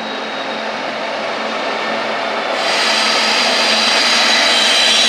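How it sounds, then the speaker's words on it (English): A loud, broad rushing roar builds and then holds steady as a Union Pacific train passes close at hand in Sacramento, California. "we got a train coming"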